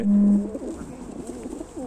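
A Ukrainian high-flying tumbler pigeon gives a soft, low cooing call up close, a steady hum followed by a rolling coo.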